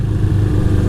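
A 1975 Honda CB550 motorcycle engine runs steadily at highway speed, a loud, continuous low drone with constant rumble and no pauses.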